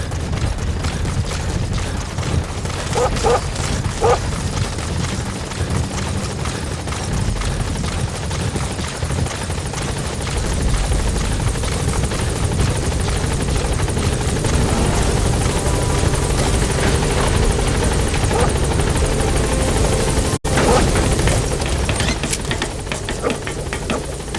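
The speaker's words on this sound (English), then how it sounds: "Support helicopter has arrived." A support helicopter in Metal Gear Solid V: The Phantom Pain thunders close by, a loud, continuous rotor thrum with rapid chopping pulses and engine whine that holds steady throughout, no voices over it.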